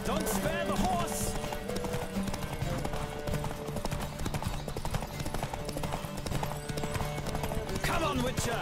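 A horse races at full gallop in The Witcher 3, its hooves drumming in a fast, steady rhythm up close, with music and shouting voices over it.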